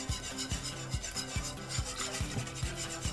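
Béchamel sauce whisked in a pan over high heat for chicken crêpes: quick, rhythmic scraping strokes repeat about twice a second, close and steady throughout.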